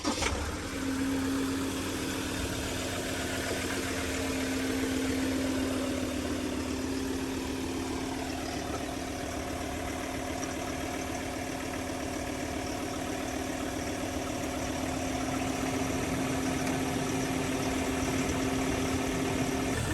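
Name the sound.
Ford Everest engine running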